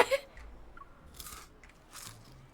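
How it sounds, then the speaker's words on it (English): Honey mustard popcorn is chewed slowly in a few quiet, separate crunching bursts, close up and with soft pauses between bites. "He pops 2 pieces into my mouth and I chew slowly."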